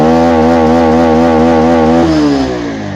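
A Bajaj BS6 motorcycle engine with a MAP and O2 sensor problem revs loud and close, holding a steady buzzing drone that rises sharply in pitch near the end.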